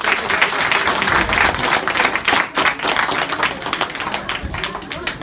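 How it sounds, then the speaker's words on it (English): An audience claps after a political debate on abortion, a full, steady round of applause from many hands that holds for several seconds before slowly thinning. "Let's give them both a round of applause, guys."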